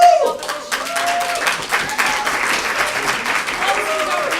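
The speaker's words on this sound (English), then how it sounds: "like to give a big warm applause to the 4 teams in this debate" Audience at a university debating championship quarterfinal applauds the four teams, with brisk, lively clapping throughout and a voice speaking briefly over it.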